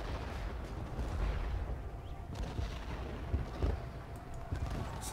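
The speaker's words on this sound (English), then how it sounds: "More artillery coming in for the enemy over there." Booming cannon fire from Civil War artillery batteries in the game Ultimate General: Gettysburg, a dense continuous rumble of heavy blasts and distant explosions rolling over a battlefield, with occasional louder thuds and no talk.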